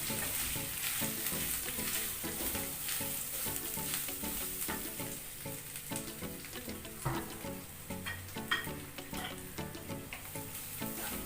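Grated coconut frying in a pan for coconut rice, a continuous dense crackling sizzle with soft stirring scrapes underneath, even and fairly quiet throughout, with no voices.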